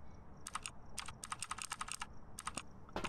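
Quick bursts of typing on a mechanical keyboard's clicky keys, fairly close and loud, in irregular clusters over a low background hum.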